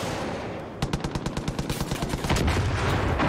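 A rapid automatic burst of gunfire strafing an enemy in the game Far Cry 5, about fifteen evenly spaced loud shots in a quick rhythm over a roaring background that swells toward the end.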